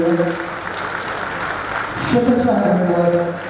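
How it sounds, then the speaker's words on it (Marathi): Crowd applause at the All India Shri Shivcharitra literary conference: a steady wash of clapping that swells in its second half, heard under a voice or tonal music. "एकदा मनापासून जोरदार टाळ्या छत्रपतींच्या नावाला त्यांच्या वारसांसाठी आपण जोडूया"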